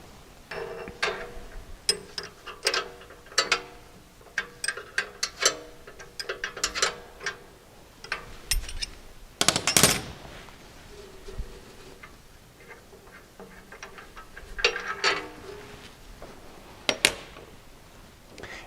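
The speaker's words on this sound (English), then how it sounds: "So we need to take that out. You'll use 2 1/2-inch wrenches." Wrenches work a transport bolt out of a MAG-8000 lawn mower blade sharpener, making irregular metallic clicks and ticks in scattered bursts, with one louder clatter near the middle, then quieter stretches between taps.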